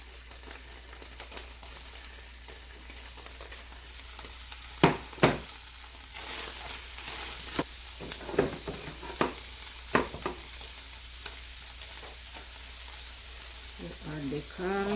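Onions sizzle and fry in a pan, a steady loud hiss with occasional sharper crackles and a few utensil clicks, close up; a voice briefly appears near the end.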